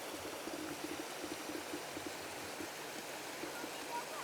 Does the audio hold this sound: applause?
no